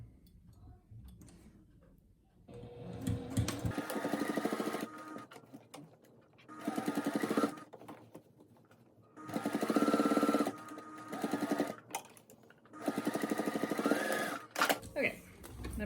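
A sewing machine top stitches a four-layer fabric face mask in several bursts of rapid mechanical stitching, close and fairly loud, separated by short pauses with faint handling noise.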